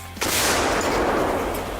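A single deafening blast from a howitzer, followed by a long rolling roar that slowly fades.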